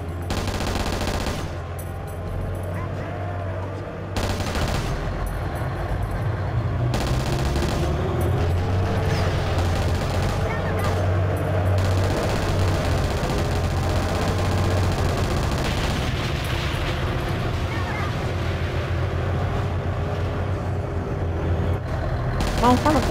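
Rockets and machine gun firing at a vehicle on a small town street in a video game, sustained rattling bursts and rumbling blasts over a low engine drone, with someone talking over the action.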